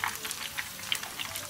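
Breaded meat skewers deep-frying in oil, a soft continuous crackling sizzle with scattered small pops, fairly faint and close.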